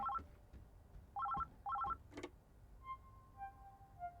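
Telephone ringing in the video game Oxenfree 2: three short electronic ring bursts, each a quick warbling trill, separated by brief pauses, followed by a couple of faint beeps, fairly quiet and alone without talk.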